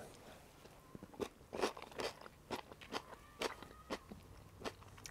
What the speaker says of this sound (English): Crunchy green pea.